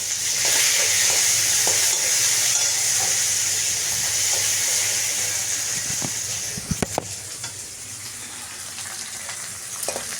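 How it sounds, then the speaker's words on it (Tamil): Chopped onions sautéing in a pan for mor kulambu, a steady close sizzle and hiss throughout with a few short clinks of a stirring spoon partway through, no talking. "வெங்காயம் போட்டு வதக்கிக்கலாம்."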